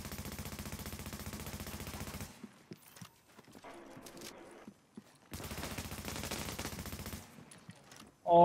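Automatic gunfire in The Division, two long sustained bursts of rapid close shots with a scattered exchange of single shots between them.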